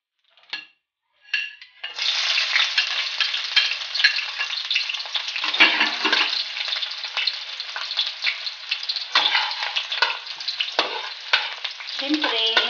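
Onion and garlic sauté in a hot pan for a shrimp dish, giving a loud, steady sizzle that starts after a couple of brief clinks. Stirring scrapes and pan knocks come through the frying now and then, and no one speaks.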